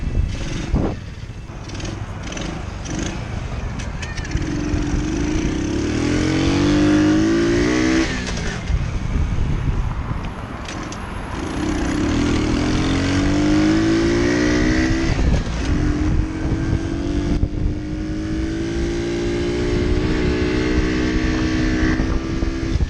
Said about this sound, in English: This is going to be one of my actual last rides on our little Amstar nostalgia. I'm in first gear.